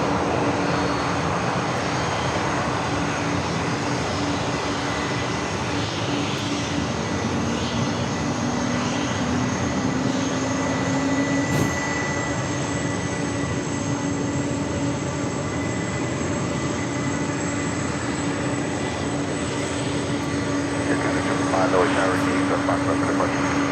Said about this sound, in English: this is Air 985 coming in from Anchorage